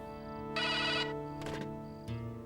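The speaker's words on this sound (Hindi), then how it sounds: "मैं देखती हूँ किसका फोन है" A telephone rings with bright electronic ringtone bursts repeating over a steady background tone in an indoor drama scene, loud and close with no talking.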